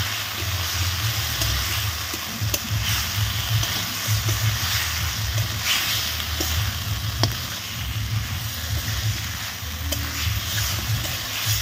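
Fish frying in a pan with salt and Kashmiri chilli powder, a steady close sizzle with soft, continuous stirring scrapes and occasional light clinks throughout, no voices.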